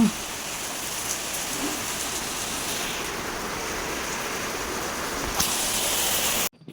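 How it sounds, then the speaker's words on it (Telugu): Rain pours down in a steady, dense hiss with no break, fairly loud and close, before stopping suddenly at the very end. "వర్షానికి తడుచుకుంటూ వచ్చాము"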